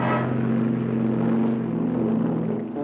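A car in a 1959 television drama drives along with a steady low engine rumble and humming tone, fairly close and even, easing slightly near the end.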